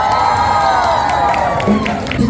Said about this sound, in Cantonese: 再次掌聲